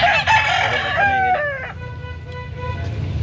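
Rooster crowing at a chicken market in Cebu, one loud, close crow that rises and trails off, followed by softer clucking over a busy low market rumble.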